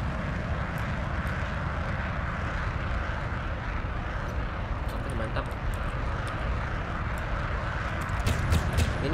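Japanese SDB-1 bomber aircraft engine in a video game, a steady loud propeller drone filling the whole stretch with faint clicks and game sounds over it.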